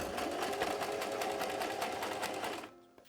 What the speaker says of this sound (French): on va rabattre endroit contre endroit notre poignet et on va venir coudre uniquement les côtés, comme ceci.